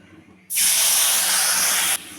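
Ground cumin, chili, salt and turmeric hit hot oil in a pan with a loud, sudden sizzle that holds steady for about a second and a half, then cuts off abruptly, leaving a quieter hiss.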